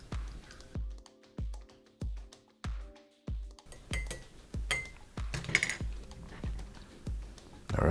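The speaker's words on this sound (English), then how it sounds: "Let's give it a stir." A metal spoon clinks against a cup while stirring sweetened condensed milk into coffee, a regular series of sharp taps about every half second, near and fairly quiet, turning into faster scraping clatter toward the end.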